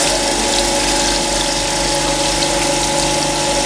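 A grinding wheel is dressed wet on a surface grinder while making a magnetic V block. Coolant gushes and the machine hums in a loud, steady drone that never changes, with no talk.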